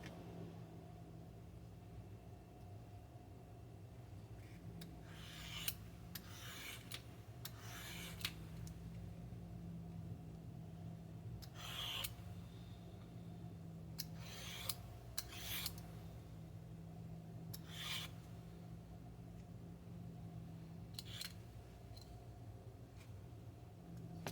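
A knife cuts a bad spot out of an opo squash, making short, faint scraping and slicing strokes in a few irregular bursts over a steady low background hum. Quiet and close, with no talking.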